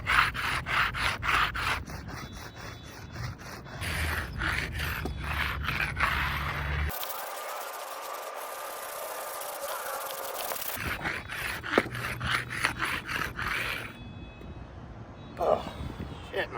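A rub brick scraping back and forth along a new concrete skate ledge, rough rhythmic grinding strokes up close, broken by a short quieter pause and some fainter handling noise.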